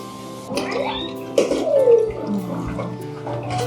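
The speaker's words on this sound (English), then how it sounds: "So I pre-fill the jars so it doesn't take as long to fill up." Water running into canning jars as they are pre-filled for canning peaches, a splashing, gurgling pour with rising tones and drips, close and moderately loud.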